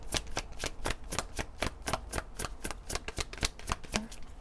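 A deck of chakra oracle cards is shuffled by hand for a reading, with quick, evenly spaced papery flicks, about four or five per second, close up and steady for several seconds, with no voices.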